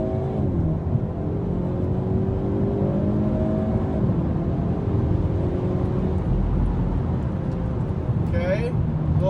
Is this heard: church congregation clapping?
no